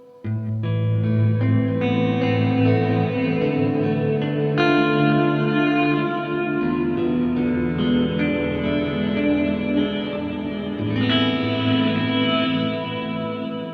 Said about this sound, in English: the first tone, which is program 1, and that's reverse delay into reverse reverb